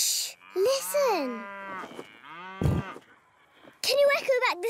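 Cartoon cows moo several times, long drawn-out lowing calls with falling pitch and short gaps between them, close and clear. A brief burst of noise sits in the middle, and one call near the end is higher and brighter.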